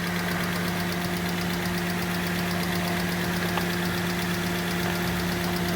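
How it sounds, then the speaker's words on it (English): A Mazda 2 engine idles steadily and close up, a constant mid-pitched hum with a faint rhythmic knock running through it, with no talk and no change throughout. "I don't know if you're going to hear the sound of the engine is too much"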